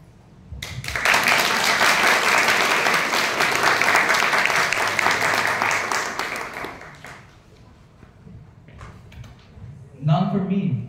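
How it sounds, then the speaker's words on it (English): Audience applause for a string orchestra, a dense, loud burst of clapping that rises quickly, holds steady for several seconds, then fades as a voice begins talking near the end. "A loud applause to them."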